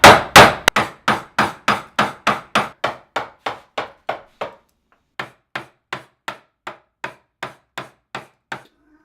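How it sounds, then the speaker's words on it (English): Wooden peg box sides, quarter-sawn pine, being trimmed with a series of sharp, close, evenly spaced wooden knocks that fade after each strike, with a brief pause midway before the steady tapping resumes. "now I'm just trimming the sides of the peg box"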